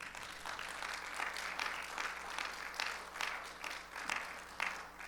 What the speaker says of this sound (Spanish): puede darle gracias al Señor con un fuerte aplauso.